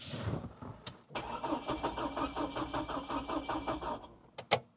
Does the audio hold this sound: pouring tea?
no